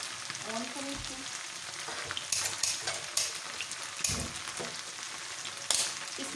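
Onion roasting in a dry pan with no ghee or oil while making bhindi masala, a close crackling sizzle broken by scraping stirs and a few sharp clinks of a utensil against the pan.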